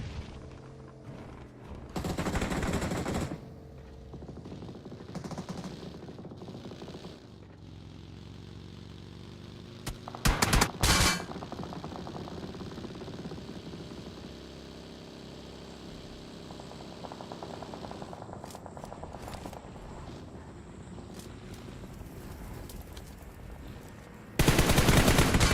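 Automatic gunfire from the battle-royale game PUBG Mobile during a competitive match: dense bursts of rapid shots in several spurts, one early, one mid-way and one at the end, over a steady low engine-like hum.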